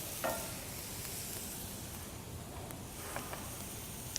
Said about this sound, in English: We can hear these seeds popping and starting to turn light brown